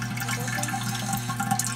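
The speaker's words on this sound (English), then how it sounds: "When I lower the float, water starts pouring." Water pours steadily into the supply tank of a Durastill 30J automatic water distiller, its float lowered, making a continuous close trickling splash with faint drips and no talking.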